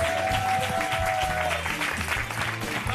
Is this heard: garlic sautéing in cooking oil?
no